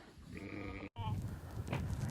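Sheep and rams bleat inside a barn on a large breeding farm, a couple of wavering, nasal calls over low shuffling background noise, with a short cut midway.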